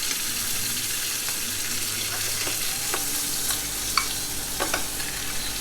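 Butter sizzles steadily in a hot frying pan as it is basted over the food, a constant close crackling hiss with a few faint clinks and scrapes of the spoon, no voices.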